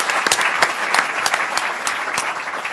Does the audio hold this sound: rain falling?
no